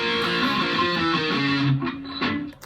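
An electric guitar plays the closing section of a piece from Xenoblade Chronicles, with sustained two-note chords and melodic lines ringing close and alone, then trailing off near the end.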